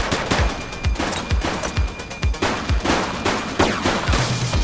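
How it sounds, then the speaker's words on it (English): Rapid gunfire from the video game The Precinct: a string of close, punchy shots in irregular bursts, some fired in quick succession, with no talking over them. "Shots fired!"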